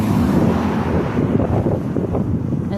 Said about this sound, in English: It's windy out, so it's nice.